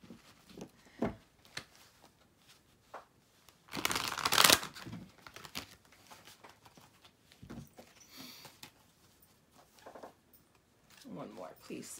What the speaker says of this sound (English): I'm gonna shuffle, then split it and pull the cards.